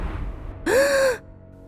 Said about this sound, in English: She woke up with a gasp,